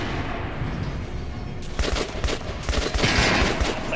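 Gunfire in the first-person shooter Metro Last Light: a low murmur gives way to sharp, rapid bursts of shots aimed at armor, growing louder and denser toward the end.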